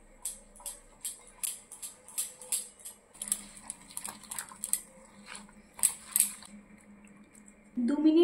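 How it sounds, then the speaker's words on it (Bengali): Yogurt batter thinned with warm water is whisked in a bowl, giving a close series of quick, rhythmic clinking and scraping strokes. The strokes slow toward the end, and a voice cuts in at the close. "দু মিনিট সময় নিয়ে ব্যাটারটাকে খুব ভালো করে ফেটিয়ে নেব।"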